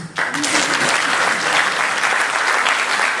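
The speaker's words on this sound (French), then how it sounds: "Vous ne pouvez pas l'applaudir aussi?" Steady, loud applause from a forum audience at the Africa IT & Telecom Forum, dense clapping that swells in after a brief opening and holds evenly throughout.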